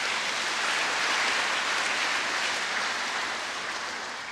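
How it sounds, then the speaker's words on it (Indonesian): Church congregation applauding after a Sunday homily, a dense, steady wash of many hands clapping that fades slightly toward the end, with no voices over it. "Tepuk tangan dulu untuk mereka."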